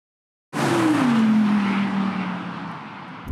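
A 2020 Audi RS7 and a 2020 Audi R8 rear-wheel-drive car launch in a drag race, producing a sudden loud engine roar with a falling drone that holds strong and slowly fades, heard alone.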